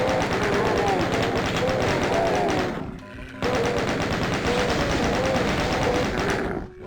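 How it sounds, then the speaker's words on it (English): Rapid chain gun fire from Final Doom on PC, a dense continuous rattle of shots with explosive thumps, loud and close, pausing briefly near the middle before resuming at full intensity. "let's switch to the chain gun."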